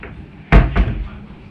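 Small refrigerator door in a hotel king room at the Tropicana Atlantic City South Tower, a close thud followed by a second softer knock as it swings and shuts, over quiet room tone.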